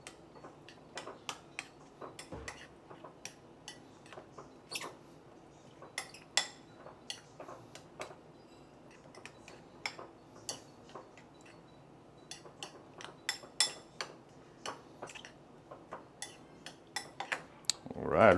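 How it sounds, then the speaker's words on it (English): Crab omelette egg mixture seasoned with white pepper being mixed in a bowl: light, irregular clicks and taps of a utensil against the bowl, quiet and close, continuing in uneven bursts. "you want to mix everything up nicely"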